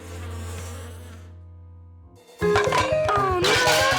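A steady cartoon buzz of bees swarming from a hive hums continuously and then cuts off. Lively animated music and sound effects follow, with no speech heard.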